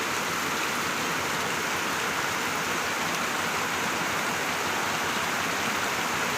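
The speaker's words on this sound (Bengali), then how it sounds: "দেখো সেই সকাল থেকে বৃষ্টি হচ্ছে" Heavy rain pours steadily at a home with turmeric plants, water running down from above, making a dense, even, loud hiss with no pauses throughout.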